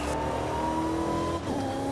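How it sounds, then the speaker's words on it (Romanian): Engine of a luxury SUV with a stated 318 km/h top speed, droning loudly and steadily up close with a sustained tonal whine and a brief dip near the end, no talk. "Place cum sună motorul acum."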